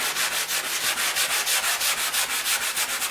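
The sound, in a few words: light sanding of a Dollar Tree wooden piece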